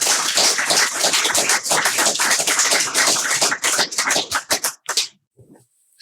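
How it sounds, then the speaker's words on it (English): Audience applause at a live energy-transition panel event, a dense burst of many hands clapping that holds steady for several seconds, then thins into scattered final claps and fades to silence. "Can we give them all a quick round of applause?"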